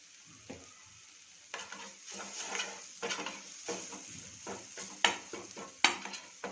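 Masala with turmeric frying and being stirred in a pan for masala pav, with a steady sizzle under repeated scraping strokes and a few sharp metallic clinks of the spoon against the pan near the end.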